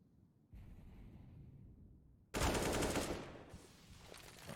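Counter-Strike gunfire on the Dust 2 map during an esports match: a quieter spell of shots, then a loud burst of rapid automatic fire that tapers off.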